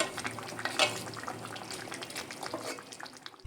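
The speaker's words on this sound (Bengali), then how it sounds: "এবার আমি 2 থেকে 3 মিনিট খুব ভালো করে ফুটিয়ে নেব।" Guchi fish curry with potatoes bubbling in a pot, a soft, steady simmering hiss with faint liquid crackles throughout, fairly quiet and close.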